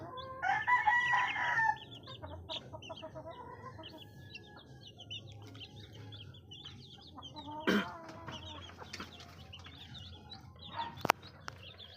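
Chickens on a farm cluck and a rooster crows nearby, with week-old chicks among them, giving scattered calls and a loud crow near the start over quiet background.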